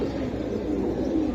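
Pigeons of hammer, silver and Beji breeds coo low and soft, a close, steady murmur with no voices over it.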